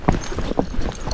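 A Missouri Fox Trotter horse gaits with loose reins, its hooves striking in a quick, even clip-clop rhythm, fairly close and clear.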